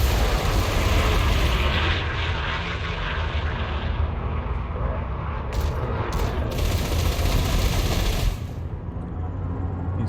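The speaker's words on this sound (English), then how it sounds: "one of them's got rail guns." Railgun fire in a ship battle in Elite Dangerous: a loud, sustained roaring blast of weapon and engine noise, dense and continuous, with sharp bright bursts near the end.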